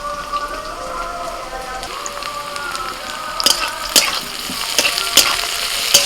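Chopped onion and capsicum sizzle in a pan, a steady close crackle with a few sharper pops and stirring scrapes in the second half, no talk.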